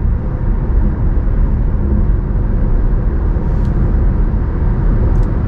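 Steady broadband road and engine roar inside a Kia Niro cruising on a motorway, continuous and loud throughout with no talk.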